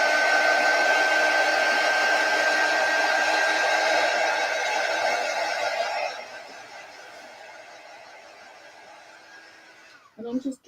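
A hair dryer blows steadily and loudly for about six seconds, drying a chalk transfer of Easter eggs on a wood and fabric strip garland, then drops to a quieter tail before a brief handling noise at the end.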